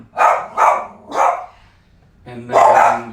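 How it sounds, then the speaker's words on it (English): Nearby dogs bark loudly, three sharp barks in quick succession, a pause, then a longer, more tonal bark or howl. "Those are my dogs. They're barking."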